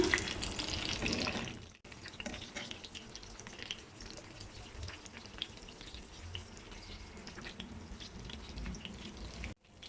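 Gola kebabs shallow frying in a pan of oil, a steady broadband sizzle and crackle running throughout, louder at the start, with a brief pause near two seconds and no talking.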